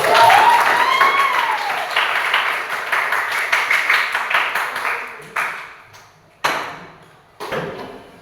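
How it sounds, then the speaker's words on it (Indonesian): A classroom of students claps after a presentation, a busy, close patter fading out and followed by a few isolated sharp claps, with voices briefly heard. "Oke, berikan tepuk tangan."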